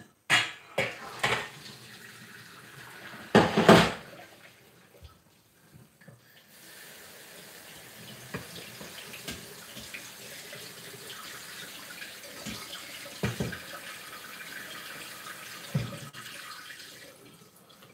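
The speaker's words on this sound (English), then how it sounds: "is running cold water under the pasta and the peas to refresh it." Cold tap water runs over drained pasta and peas in a sink, a steady, soft hiss with louder splashes and clatters of a pot or colander near the start and a few sharp knocks later.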